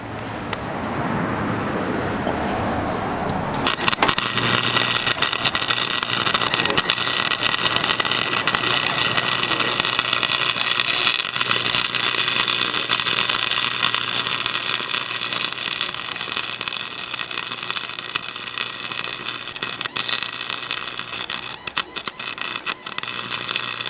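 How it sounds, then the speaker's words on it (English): Welding beads laid between the teeth of a differential spider gear make a steady, loud, crackling hiss that starts after a few seconds and runs on continuously, close up and without talk. "we're going to start off between these 2 teeth right here, and just lay some beads and build it up"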